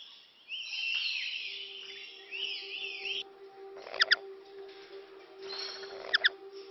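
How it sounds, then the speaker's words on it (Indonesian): Kasawai bird singing on Seram Island, a clear high whistling song with repeated phrases and short sharp chirps, fairly close against a steady low hum. "Hampir sepanjang hari, nyanyian burung kasawai bakal menemani."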